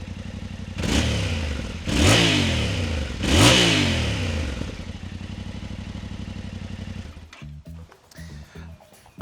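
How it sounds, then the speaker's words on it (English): A Yamaha Tenere 700 motorcycle fitted with a Yoshimura exhaust revs hard three times, each rise and fall sweeping sharply, then settles into a lumpy idle before the engine cuts off with a few clattering pops. "All right, let's do some real revs."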